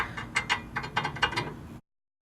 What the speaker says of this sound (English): So now we got our new bolt and nut going in.